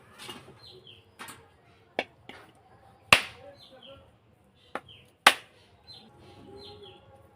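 A coconut is cracked open with several sharp, hard blows, two of them loud and close, spaced irregularly among softer knocks, while birds chirp faintly and a voice speaks at times.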